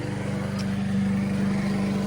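A lawn mower runs steadily outside a trail hostel, a loud, continuous engine drone with a low, even rumble and no breaks.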